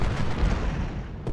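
Artillery fire in Ultimate General: Civil War at the Battle of Malvern Hill, a short burst of low rumbling booms that stays dense and heavy, heard alone.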